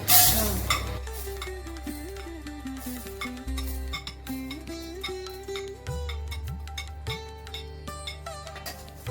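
Fenugreek seeds dry-roasted and stirred in a pan for homemade South Indian sambar powder: steady, rhythmic scrapes and light rattling clinks, with a tonal melody playing underneath.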